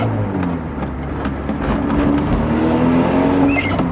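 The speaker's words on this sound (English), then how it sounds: "As you can hear, the exhaust is blowing as well." An MG F sports car engine running with a blowing exhaust, a close, continuous rasping drone with rising revs and a sharp squeal near the end.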